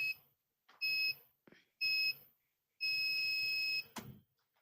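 A kitchen-style timer gives four sharp electronic beeps, the first three short and evenly spaced and the last held for about a second, followed by a brief clatter; no talk over it.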